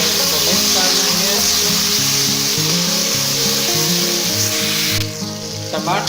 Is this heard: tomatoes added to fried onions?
yes